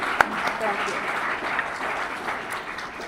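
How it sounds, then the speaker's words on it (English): A round of applause at a military change of command ceremony, with moderate, steady clapping from a seated audience. A sharp close clap stands out near the start, and faint speech runs beneath the clapping. "So I'm going to give you guys a round of applause."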